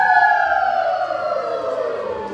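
Tenor and bass choir voices imitate a siren in unison, a loud, sustained gliding wail that slowly sweeps downward in pitch over a couple of seconds, alone without talk.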